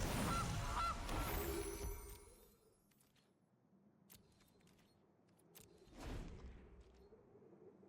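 Goose honking from the MTG Arena card game, a loud burst of honks at the start, then a quieter stretch with clicks and a second, smaller honk.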